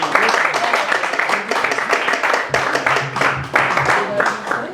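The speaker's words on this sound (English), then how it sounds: "Give them another round of applause," An audience at a Blackpool George Formby show applauds steadily, dense close clapping holding for several seconds with a few louder bursts.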